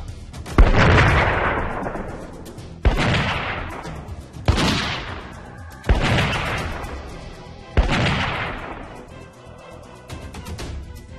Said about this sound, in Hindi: इनोवा से उतरे 2 नौजवानों ने हवाई फायर करते हुए